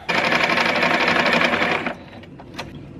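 A sewing machine runs steadily while hemming the tucked-under bottom edge of a T-shirt, a loud, continuous stitching whir that stops abruptly near the end, leaving a few faint handling sounds.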